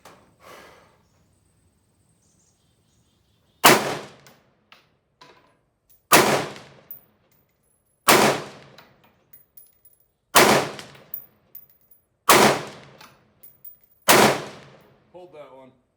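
An AR carbine fires from a standing position at a shooting range: six sharp, loud, spaced single shots, each with a short ringing decay, plus faint handling clicks between.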